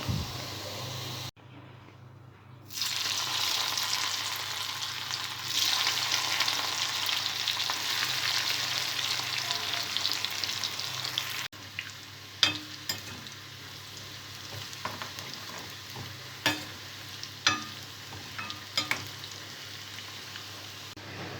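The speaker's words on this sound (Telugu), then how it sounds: "కాకరకాయ ముక్కలు మొత్తం ఇలా డీప్ ఫ్రై చేసుకోవాలి" Bitter gourd pieces deep-frying in hot oil give off a steady, dense sizzle throughout, with occasional light clinks and scrapes of stirring cutting through the bubbling.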